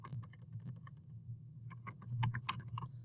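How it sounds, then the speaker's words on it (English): Quiet, close tapping of keys on a computer keyboard in irregular bursts with a short pause in the middle, over a low steady electrical hum; no speech. "we're just going to type in our school address"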